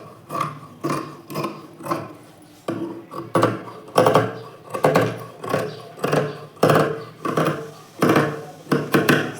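Scissors cutting blouse fabric to trim a folded side edge for piping, a series of crisp, regular snips in a steady rhythm, close and fairly loud with no talking.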